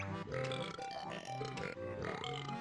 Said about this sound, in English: So yeah, he speaks in burp